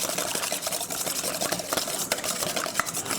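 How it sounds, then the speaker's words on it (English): A fork or whisk beats an egg in a bowl with quick, steady scraping and tapping strokes that repeat close by without pause, and no one speaks. "I want to get the egg really whisked up."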